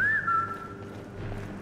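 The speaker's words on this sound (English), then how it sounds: "this is because I whistled when I saw that" A person gives a short, bright whistle that rises and dips in pitch before fading, followed by quiet background sound from a Skyrim Special Edition game.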